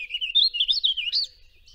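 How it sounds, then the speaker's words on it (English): Warbling vireo song: a rapid, rambling run of sweet rising and falling warbled phrases, clear and fairly close, alone with no voices, fading out near the end. "But nothing else sounds like that warbling vireo song."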